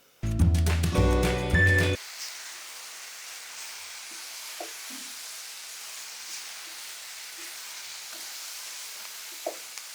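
Vegetable curry for a mixed veg pickle sizzles quietly in a pan, a soft, steady hiss with occasional small pops, after a brief burst of music at the start.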